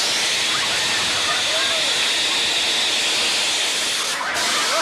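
Rocket chair ignition releases a loud, continuous roaring hiss of mist that stays strong and steady throughout, with no talk over it.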